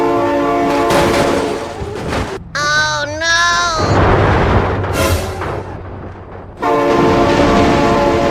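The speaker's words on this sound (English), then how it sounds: "Oh my god, train!" A train in the BeamNG driving game blasts a loud sustained horn, then rumbles and screeches past close by as the horn returns, while a voice shouts excitedly.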